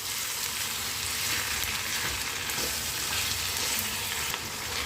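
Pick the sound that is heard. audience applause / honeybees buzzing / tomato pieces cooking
tomato pieces cooking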